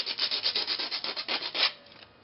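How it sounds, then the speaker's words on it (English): Sandpaper rubs a small 3D printed plastic part in quick, even back-and-forth strokes, about a dozen close scratchy passes that end with one longer stroke, with no talk. "So you can take a little piece of sandpaper, just get all the little ridges out of there."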